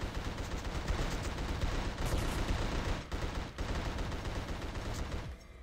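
Gunfire rattles almost nonstop in The Suffering, loud and close, with dense bursts running through the whole stretch and brief dips near the middle before it cuts off at the end.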